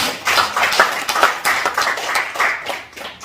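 Audience applause in a lecture hall during a senior missionary school lecture, a dense burst of many hands clapping steadily and close, with scattered sharper claps throughout.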